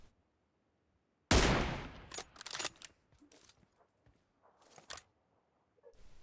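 Sniper rifle gunfire in PUBG Mobile, an M24 bolt-action, with one loud sharp shot followed by a scatter of fainter cracks and clicks, then quieter bursts toward the end.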